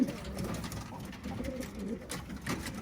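Pigeons coo softly and repeatedly in a steady, low murmur, several birds close by over faint background noise.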